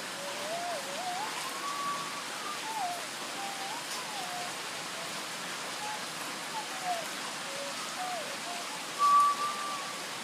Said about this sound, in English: there is a thunderstorm that just rolled in from the coast